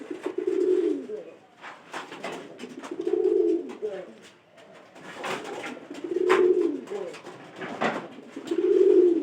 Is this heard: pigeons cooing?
yes